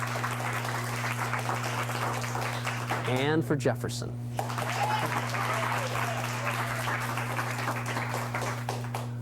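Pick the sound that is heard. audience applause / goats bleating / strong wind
audience applause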